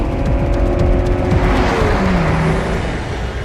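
Car engine in a Breaking Bad scene with Walt at the wheel, pulling hard as the car speeds up too fast: a steady, loud motor drone with rising pitch sweeps and a faint tire squeal, no talk.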